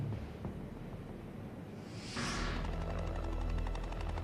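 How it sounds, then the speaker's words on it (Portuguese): Military helicopters lifting off at an airfield west of Munich in 1972, a rising rotor and turbine roar that swells after a couple of seconds into a steady, loud rumble with broadband whooshing. "Com a decolagem dos helicópteros"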